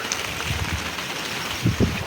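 Rain falling outdoors in the Konkan countryside, a steady diffuse patter with a few louder drops near the end, no voices.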